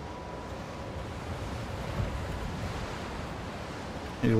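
Ocean waves roll and surge in a steady, rushing wash of surf with wind-like noise, continuous and fairly close, with a voice cutting in at the very end.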